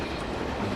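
Locomotive running at speed on the Great Central Railway in Train Simulator 2018, a steady broadband rumble and rushing roar, loud and continuous with no pauses.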